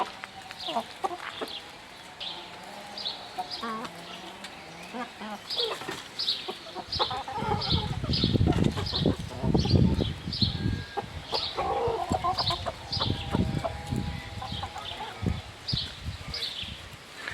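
Hens clucking in short repeated calls, with scratching and rustling and a louder burst of activity in the middle.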